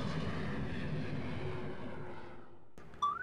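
Aircraft engines from the Command & Conquer Red Alert video game drone in a loud, steady roar that slowly fades out, followed by a brief sharp electronic blip near the end.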